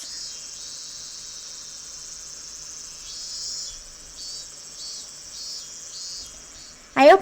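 Cicadas drone steadily through open windows on a hot day in Higurashi When They Cry Kai, a continuous high shrill chorus with pulsing swells, cut off by a brief louder sound at the end.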